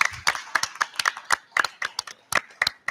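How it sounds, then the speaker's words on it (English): A small audience at a Covington Independent Public Schools board meeting claps for a retiring staff member, with distinct, fairly sparse individual claps that are close and clear, with no talk over them. "let's give her a round of applause"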